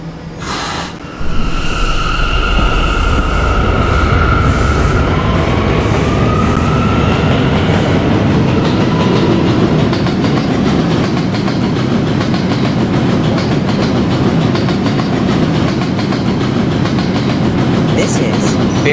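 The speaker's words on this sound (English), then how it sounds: "This is a Gatlin-bound D train." An R179 D subway train in Roblox PTA Subway rolls along steadily with a constant loud rumble and rhythmic wheel clatter, a brief tone sounding early on before the running noise settles into a sustained drone.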